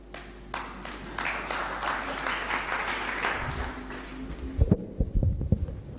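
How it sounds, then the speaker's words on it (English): Convention audience at a diaspora homecoming event clapping together, a sustained medium-loud wash of applause that thins into a few scattered louder claps at the end. "another round of applause to Mr. John Kaburu"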